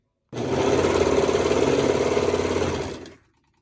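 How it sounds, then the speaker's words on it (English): A serger stitching fabric mask pieces together runs in one continuous, loud, close buzzing burst of about three seconds, with a rapid mechanical chatter that stops abruptly. "I will serge these two pieces together"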